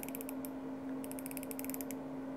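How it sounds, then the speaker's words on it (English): An aluminum watch bezel with a protective cover rotated on a new watch, giving two quick runs of crisp, close, rapid clicks separated by a short pause, with no talking. "Let me see the bezel action."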